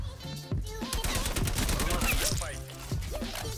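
C58 assault rifle from Call of Duty Cold War firing in quick bursts, sharp close reports rattling in clusters with brief pauses, while someone talks faintly underneath.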